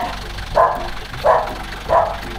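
A dog barks three times at an even pace, each bark short and fairly loud, with quiet background noise between them.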